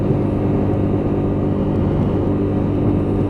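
A Lexmoto LXS motorcycle engine drones steadily with the throttle held open on a hill climb, a loud continuous rumble close up, mixed with wind noise and no break in pitch.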